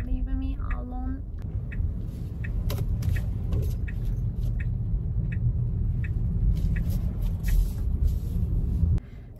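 Constant low road and engine rumble from inside a moving car in traffic, with a brief voice at the start and faint higher noises drifting over the steady drone.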